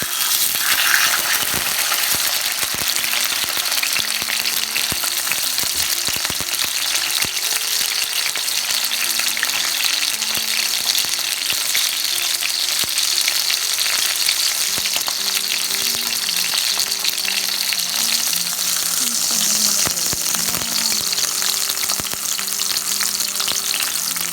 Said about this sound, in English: So let's start searing it.